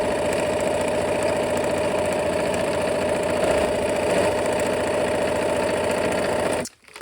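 A sewing machine stitches quilt seams in a steady, continuous whir with a rhythmic mechanical chatter, close and loud, running alone until it stops abruptly near the end.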